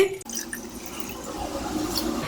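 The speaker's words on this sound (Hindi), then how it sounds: "एक गिलास पानी लेंगे" Water is poured into a glass to make a Tang mango drink, giving a steady close-up splashing and filling hiss that runs through the whole stretch.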